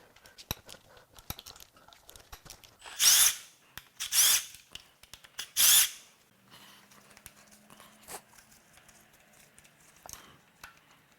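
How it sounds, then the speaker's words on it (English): A power tool unbolts the secondary chain tensioner on a BMW M54 engine. Three short, close whirring bursts stand out against quiet clicks and handling noise. "I'm also going to unbolt the secondary chain tensioner."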